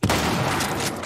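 A single loud, booming gunshot from The Last of Us remake video game hits hard at the start, then rolls into a sustained crackling tail.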